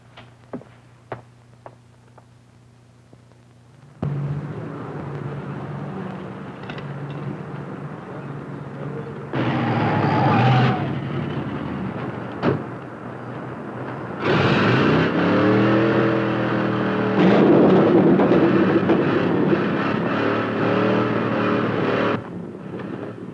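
A 1950s hot rod engine roars past in several loud waves, building and fading as the car speeds by, with quieter gaps and a few sharp clicks between the surges.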